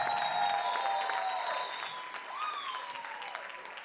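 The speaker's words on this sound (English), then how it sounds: "Ladies and gentlemen, a huge round of applause for Nunzio Raso." A theatre audience at a comedy competition applauds a comedian, with steady, dense clapping that starts loud and eases slightly, plus a few sustained whistle-like tones over the crowd.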